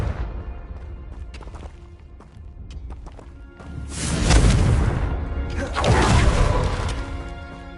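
A Confringo spell explosion in the video game Hogwarts Legacy bursts out as two loud, rumbling blasts one after the other. Before them come softer clattering impacts and a shouted voice.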